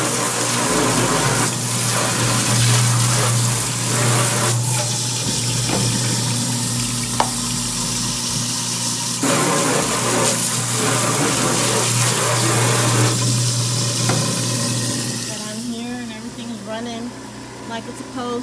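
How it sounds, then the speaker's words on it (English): Hot water runs hard from a kitchen tap into a sink fitted with a garbage disposal, a loud, steady rushing splash that fades near the end. "Let me get some hot water so I can kind of clean this out a little bit."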